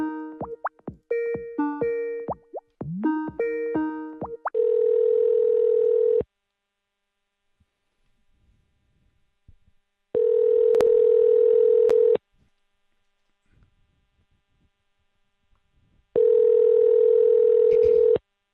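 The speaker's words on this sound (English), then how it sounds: "I'm going to keep making dials" Outgoing phone calls begin with a quick series of keypad tones being dialed, then a steady ringback tone sounds in long repeated bursts separated by silent gaps.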